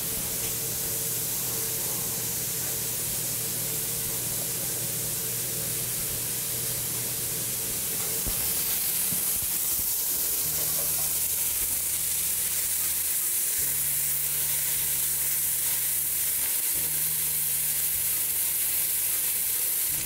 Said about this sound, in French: Donc, une fois que le bacon est presque cuit,